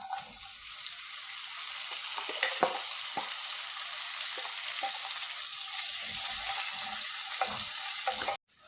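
Crushed garlic and shallots fry in a pan with ginger, giving a continuous close sizzle with scattered stirring scrapes and clacks throughout, before a sudden cut near the end.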